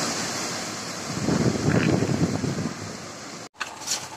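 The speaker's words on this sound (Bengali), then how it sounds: "এত ঝড় বৃষ্টি হচ্ছে" Cyclone Amphan storm wind and rain roar steadily outdoors, with a gusty surge swelling mid-way before a brief cut-out near the end.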